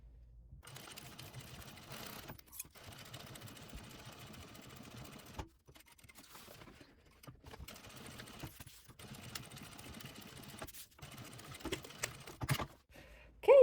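A sewing machine runs in bursts, stitching fabric pockets onto a bag lining a few millimetres from the pocket edge, with brief pauses between runs and a sharper knock at the end.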